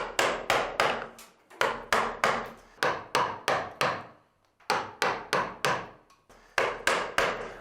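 Large pieces of timber are removed by hand with sharp, close knocks in quick bursts of four or five, each ringing briefly before the next, with short pauses between groups.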